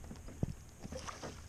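A Hobie kayak is paddled on Gulf Coast inshore water, with soft splashes and a few quick dips of the paddle heard close and faint against light wind.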